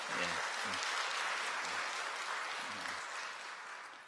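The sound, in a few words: church congregation applause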